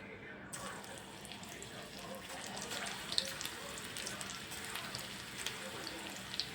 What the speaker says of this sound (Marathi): आता आपण उरलेल्या सगळ्या केळी अशाच चिप्स बनवून तळून घ्यायच्या आहेत